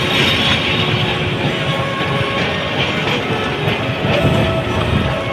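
A train heading from Kamalapur, Dhaka to Narayanganj thunders past the Jurain level crossing close by, a loud continuous rumble with rhythmic clickety-clack of wheels over rail joints and occasional metallic squeals.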